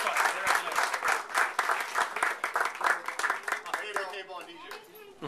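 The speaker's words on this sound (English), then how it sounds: "So y'all give him a round of applause" An audience at a Lost Bayou Ramblers show claps with sharp, distinct handclaps and some cheering. The applause thins out toward the end as a voice speaks over it.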